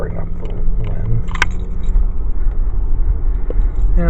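Keys jangle in close right in front of a camcorder lens, with short metallic clinks over a steady low rumble of passing traffic or a train outdoors.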